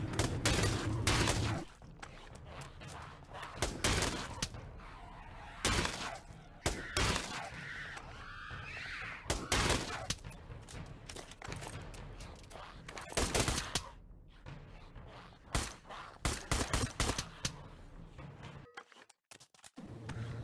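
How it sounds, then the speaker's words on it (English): Pistol gunfire in a VR shooting video game: repeated sharp shots in irregular bursts and single cracks, some loud and close, with brief pauses and a faint voice in places. "You have to reload one and shoot back immediately."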